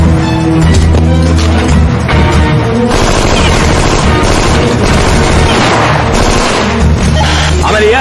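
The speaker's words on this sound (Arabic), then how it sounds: "في تبادل اطلاق نار جوه يا فندم." Sustained gunfire exchange in an Egyptian action film scene, dense overlapping shots and bursts under a loud, booming music-and-effects mix with possible voices mixed in throughout.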